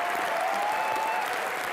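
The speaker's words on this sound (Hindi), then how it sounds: "जिसके लिए जोरदार तालियां सर।" A studio audience at the Comedy Nights With Kapil comedy show breaks into loud, steady applause that fills the room throughout, with a faint whistle riding over the clapping.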